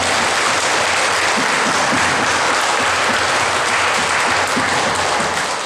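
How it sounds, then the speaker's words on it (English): A crowd at a veterans' honoring ceremony in Siletz, Oregon applauds steadily, a dense, loud wash of clapping that continues without a break from start to finish. "Let's give him a round of applause."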